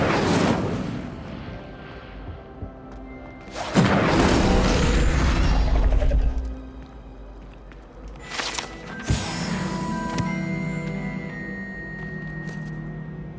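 Incendio fire spell cast in the video game Hogwarts Legacy, heard as a few loud whooshing bursts with low rumble, separated by quieter magical tones and ambience, with no voices.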